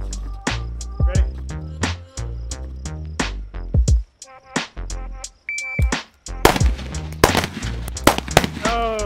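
Gunshots ring out at a square shooting range as sharp, close, loud reports come in rapid pairs and short strings, with echoes and a brief lull in the middle, then more quick shots at the end.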